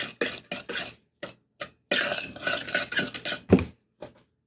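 Carrots and radishes are being tossed with kimchi paste and Korean red chili flakes in a bowl, giving close bursts of wet mixing and clattering against the bowl, separated by brief pauses, with no talking.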